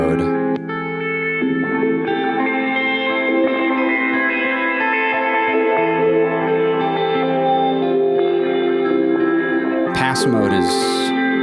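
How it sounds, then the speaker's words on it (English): A reverb pass mode, with a band-pass filter placed between two reverb lines, colours a sustained, echoing synth tone that swells and shimmers steadily, loud and continuous, with a short bright noise burst near the end. "Pass mode is where a band pass is introduced in between the two reverb lines."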